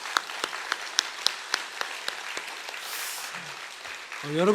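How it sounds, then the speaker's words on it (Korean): A church congregation applauds its teachers during a Sunday worship service, a steady patter of many hands with a few sharper claps standing out, fading toward the end as a voice begins to speak. "우리 다시 한번 우리 교사 선생님들 위해서 박수 한번 해주시면 감사하겠습니다."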